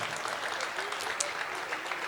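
A church congregation claps together during a morning service, a broad even wash of many hands sustained throughout, with a faint voice or cheer rising briefly in the middle.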